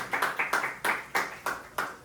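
A church congregation claps in unison during a communion service, giving a steady rhythmic run of about eight sharp, moderately loud hand claps with no voices over them.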